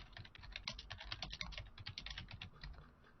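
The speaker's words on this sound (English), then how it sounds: "I'm getting typing noises." Someone types rapidly on a loud computer keyboard, a dense, close run of clacking keystrokes that continues steadily with no speech over it.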